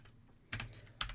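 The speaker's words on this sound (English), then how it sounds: "what we can do here is we're going to manually type this out" Keys on a computer keyboard are tapped quietly while a command is typed, with two brief clusters of crisp clicks heard close up over a faint, low background hum.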